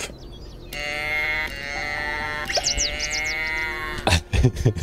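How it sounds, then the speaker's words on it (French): Roe deer in the nature-building video game Preserve let out loud, goat-like bleats, several long quavering calls in a row, followed by a brief burst of choppy clatter. "Comment ça se fait que ces chevreuils font un bruit de chèvre?"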